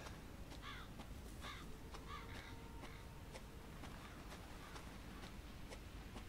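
Crows caw several times in the video game Resident Evil 7, with short, scattered calls over a steady, noisy ambient background.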